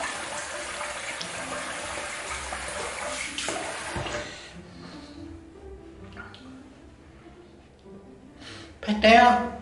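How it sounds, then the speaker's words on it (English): A bathroom tap runs steadily for a rinse after a wet shave, water splashing close and loud before it shuts off, leaving quieter dripping and handling noises, then a brief louder splash at the end. "do a quick rinse"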